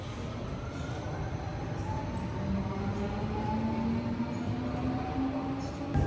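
A daytime passenger train bound for Lisbon, Portugal, rumbling steadily along the rails, with a continuous low roar and faint shifting tonal whines from the wheels and motors throughout.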